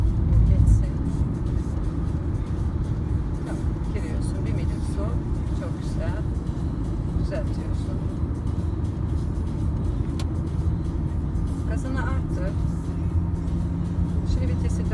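Cars pass on a highway in Gebze during a driving lesson, a continuous low road rumble heard from inside the moving car with a few faint clicks.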